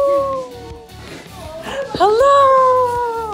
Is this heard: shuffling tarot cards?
no